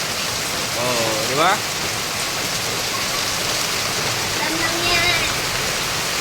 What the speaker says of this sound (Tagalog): Ay, tumuulan.